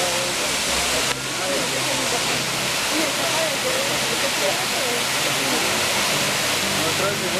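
A waterfall at Las Lajas in Supatá roars as a dense, steady wash of falling water, loud and close, filling the scene continuously with no pauses.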